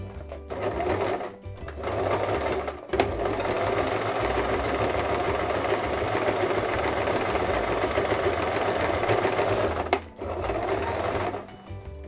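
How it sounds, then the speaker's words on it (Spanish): Sewing machine running steadily while stitching a zipper crossbody bag, a loud continuous motor hum with rapid needle chatter, broken by short pauses near the start and end. "Vamos a ir a la máquina y vamos a coser por la línea. Seguimos cosiendo a pie de prensatela."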